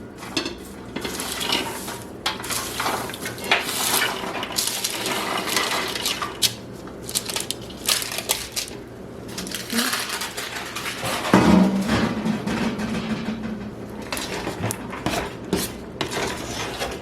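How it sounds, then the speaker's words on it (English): Toasted almonds are stirred into a thick chocolate nougat cookie mixture, with steady scraping, clinking and rattling of utensil against bowl throughout, plus one louder knock partway through. "putting in all these toasted almonds and stirring them in"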